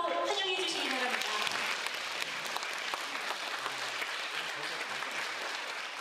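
A large audience gives dense, sustained applause to welcome the Wonju Silver Wind Orchestra and its conductor. The clapping holds at a steady level throughout, and faint voices blend into it.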